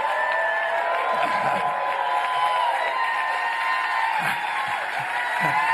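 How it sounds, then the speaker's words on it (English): An audience stands and applauds, a steady wash of clapping with some crowd noise that stays even throughout, heard from a distance. "people stand and applaud at the start"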